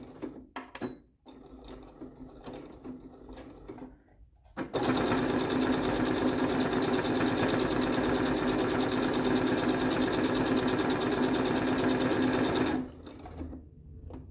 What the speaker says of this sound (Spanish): Voy a empezar a coser, voy a hacer el atraque